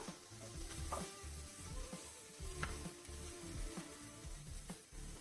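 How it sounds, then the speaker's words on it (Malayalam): Onions sauté in a pan for potato masala, giving a steady, quiet sizzle close by, with occasional soft stirring scrapes and no talking. "നമ്മുടെ സവാള ഒന്ന് വഴണ്ട് കിട്ടട്ടെ."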